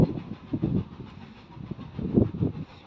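A Hall class steam locomotive passes on the Dartmouth Steam Railway, a low rumbling train with rhythmic wheel clatter swelling in two waves, fairly close and without talk.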